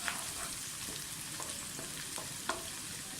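Onions fry in a pan over a medium flame, a fairly soft, even sizzle with light stirring scrapes and a small click near the end, with no speech.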